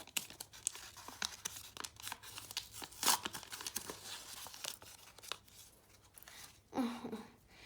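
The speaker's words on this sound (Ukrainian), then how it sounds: "Беремо наш пакетик, відкриваємо прямо де, там, де є ці відкривашки у звичайних кіндерах" Crinkling and tearing of a thin paper surprise packet, with scattered rustles and crackles over several seconds, close and fairly quiet.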